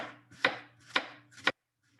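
Three crisp knife strokes slice an onion on a cutting board for a Spanish potato omelette, each a sharp close thud at an even pace, then quiet.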